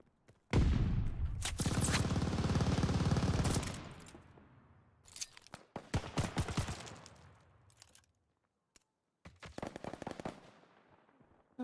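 Dense video game gunfire, a long sustained automatic burst followed by scattered clusters of sharp cracking shots and a brief quiet gap before more rapid fire, loud and close.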